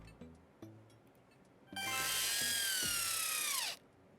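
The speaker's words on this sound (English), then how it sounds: "Drill." A power drill whirs in the Switch 2 Welcome Tour video game, a loud sustained whine lasting about two seconds that drops in pitch as it stops, with short game chimes and blips before and after.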